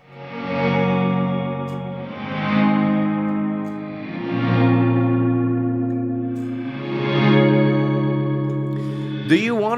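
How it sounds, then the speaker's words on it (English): Guitar chords through a reverb pedal set to reverse reverb, each one swelling up from silence into a loud surge, repeated about four times in slow cycles, followed by a brief pitch-bending flourish at the end. "Or a straight up reverse reverb like this."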